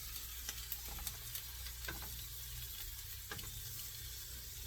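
Butter sizzling in a frying pan on a stove burner set to medium while chicken bean burritos cook, a steady soft crackle with a few faint clicks of utensils and no talk.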